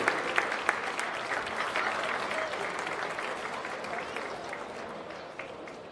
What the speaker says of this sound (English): let's have a nice round of applause for the CHSAA Position Goal and Defender